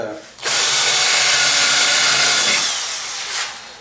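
A power drill with a 5/32 bit bores straight through wood in one continuous, loud whine lasting about two seconds, then eases off as the bit winds down.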